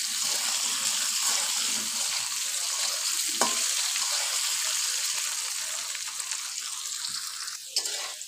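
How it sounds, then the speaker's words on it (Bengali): Taro stolons frying in hot oil in a pan, a steady close hiss and crackle holding throughout with a faint brief clatter near the end. "ছড়া ভাজা নেব।"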